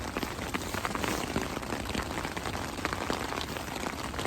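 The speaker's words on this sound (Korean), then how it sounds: "바람도 불고 비도 오고." Rain driven by wind beats on a tent at a backpacking campsite, a steady close hiss of dense drops with no talking.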